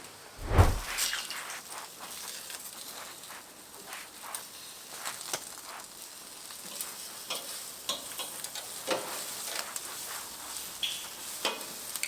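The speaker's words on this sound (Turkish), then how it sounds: "Şimdi arkadaşlar bu tarafta sucuk da gayet güzel pişiyor" Sucuk sausage and peppers sizzling on a charcoal grill, giving a constant crackling fry with scattered sharp pops and one louder knock near the start.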